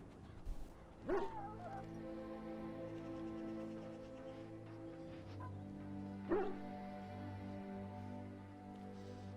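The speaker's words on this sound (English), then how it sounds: "Put the muzzle on the dog." In Dragon Age: Origins, a dog whimpers and gives a couple of short, faint yips and barks over a steady, low musical drone, with quiet stretches between the sounds.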